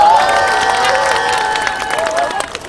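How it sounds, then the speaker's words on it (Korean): Crowd at an outdoor student rally against the comfort women agreement cheering and applauding as student representatives step up, loud and busy with shouts, whistle-like tones and a PA voice over the noise. "큰 박수 부탁드립니다."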